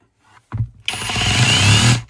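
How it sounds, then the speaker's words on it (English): An ALDI Ferrex 20V cordless hammer drill in hammer mode, running anti-clockwise, spins up loudly after a couple of faint clicks, whirring steadily at close range for over a second. "Hammer drill at the minute. Anti-clockwise on."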